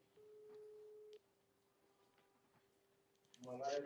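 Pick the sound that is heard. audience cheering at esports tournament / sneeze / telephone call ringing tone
telephone call ringing tone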